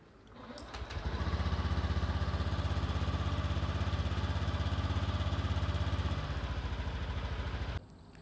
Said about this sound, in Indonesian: hidupkan mesin dalam putaran stasioner selama 20 menit